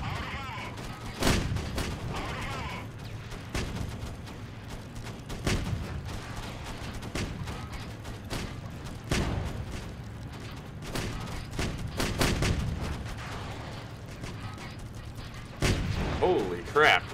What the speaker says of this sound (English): let's fire some of these cannon shells